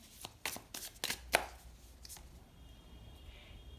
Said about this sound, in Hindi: इसके बाद एक और कार्ड निकालते हैं